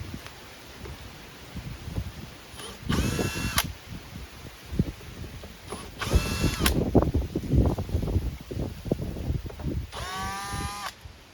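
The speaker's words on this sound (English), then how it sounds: "I'm going to unscrew these little Phillips head screws" A power screwdriver removes small Phillips head screws from a radon remediation fan in three short whirring bursts, close up, separated by quiet handling noises.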